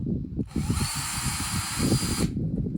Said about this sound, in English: then we're going to drill the holes